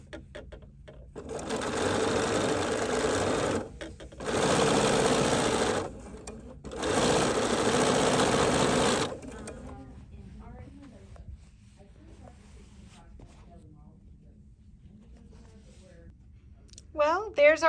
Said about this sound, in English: I'm going to show you the sewing.